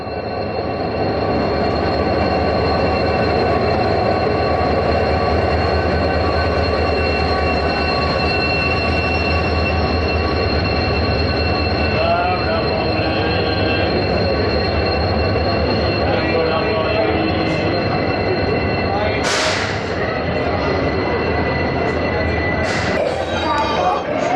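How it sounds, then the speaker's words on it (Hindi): A WDP 4D diesel locomotive, number 40585, hauls the Koyna express, giving a steady, loud rumble with rhythmic wheel clatter throughout, a low engine drone beneath, and a few brief high squeals or hisses near the end. "WDP 4D 40585 डीजल लोकोमोटिव है।"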